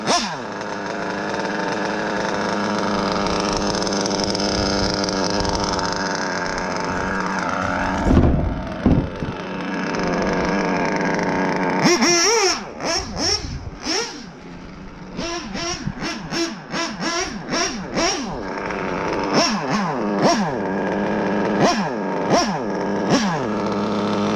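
Modified Triton L5 engine fitted with a Nova race carburettor, a loud sustained buzzing rev that cuts briefly, then a rapid series of sharp blips and throttle stabs, close up with no speech.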